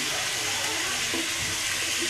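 Chicken with spices and taro pieces frying in a pan, a soft steady sizzle with faint stirring scrapes underneath, fairly quiet and continuous.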